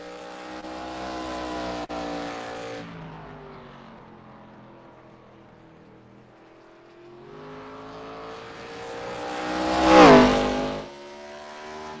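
A Legends race car in a sim racing game at Kern Raceway drones past. The engine note fades after an early pass, then builds again to a loud peak near the end as the car sweeps by, with no talking.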